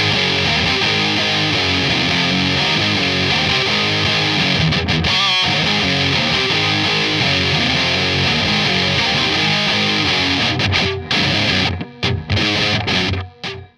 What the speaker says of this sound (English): It was the MD2 Mega Distortion.